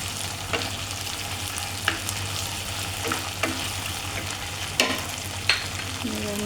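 Ginger and garlic paste frying in a pan gives a steady sizzle with a low hum underneath, broken by several sharp scrapes and clicks of stirring spaced a second or two apart, fairly close and with no voices.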